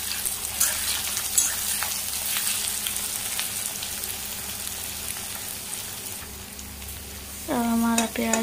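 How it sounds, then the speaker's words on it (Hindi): Continuous close sizzling and crackling of sliced onions frying in a pan, with occasional stirring scrapes and a brief tonal beep near the end. "अब हम प्याज को गोल्डन ब्राउन होने तक फ्राई करेंगे।"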